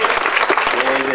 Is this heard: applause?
yes